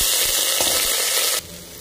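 Cauliflower, potato, carrot and soybean pour into a pan of frying onions with a loud, hissing sizzle that drops off abruptly after about a second and a half to a softer, steady fry.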